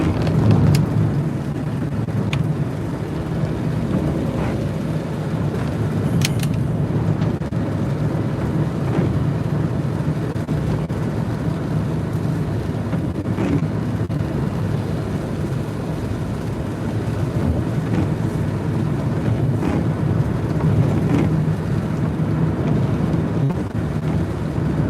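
Steady interior rumble of a Peugeot Partner work van driving in nasty weather, with a constant low engine and road drone, wind buffeting and occasional faint knocks, continuous and close throughout.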